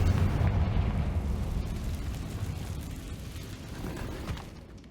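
Explosion spells go off in the video game Hogwarts Legacy inside a cave, producing a deep, rumbling blast that fades slowly over several seconds with no talking.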